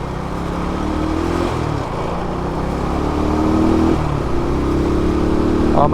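A Yamaha LC135 motorcycle rides at high speed, its engine droning and rising in pitch with revs, steady and fairly loud under rushing wind noise, with a brief dip partway through.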